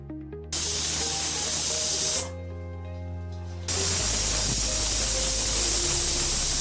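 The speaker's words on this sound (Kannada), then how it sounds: "ಇನ್ನು ಕುಕ್ಕರ್ ಮುಚ್ಚಿ ಒಂದು 2 ವಿಷಿಲ್ ಸಾಕು." A pressure cooker full of pulao vents a loud, continuous hissing whistle of steam. The jet sputters, changes pitch briefly in the middle, then surges again.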